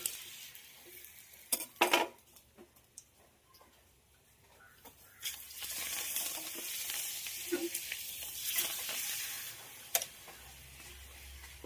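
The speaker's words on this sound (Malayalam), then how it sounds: "അതിൻ്റെ മുന്നേ രണ്ട് പപ്പടം അങ്ങോട്ട് പൊരിക്കായിരുന്നു" Two papadams fry in the oily pan used for frying fish, in a home kitchen on a rainy day. A few metallic clanks come first, then a broad, crackling sizzle swells and holds steady, with occasional sharp taps.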